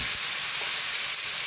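Chicken pieces frying in a pot for Filipino tinola make a loud, dense sizzle that fills the whole short moment without a break.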